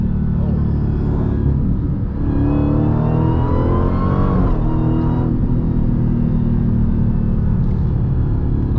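A Dodge Challenger SRT Demon accelerates hard on the road, its heavy engine roaring loud and steady throughout with a deep rumble that swells in pitch midway before settling again.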